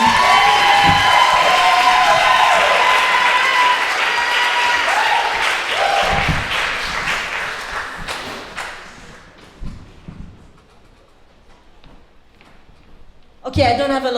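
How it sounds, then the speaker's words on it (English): A comedy showcase audience applauds and cheers loudly for a female comic being introduced, dense clapping that holds steady for about eight seconds, then thins out and fades, with a short burst of noise returning at the very end. "Clap it up right now for your favorite female intern, Danielle Deluty."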